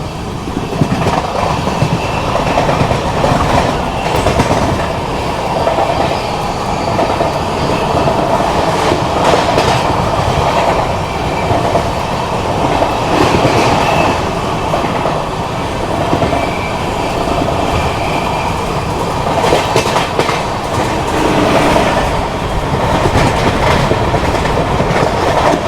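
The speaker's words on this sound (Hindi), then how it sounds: "ट्रेन अपनी लगातार 130 चल रही है" Rajdhani Express train running steadily at 130 km/h, a continuous loud rumble with rhythmic clickety-clack of wheels over rail joints, heard from inside the coach without talk.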